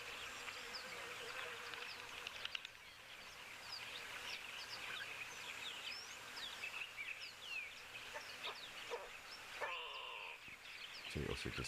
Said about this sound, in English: So you also just hear go away bird there.